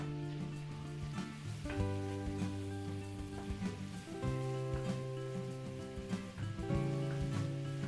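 Chorizo de Bilbao sautéing with onion in a Filipino home kitchen sizzles steadily under soft crackles, with a low musical hum running through it.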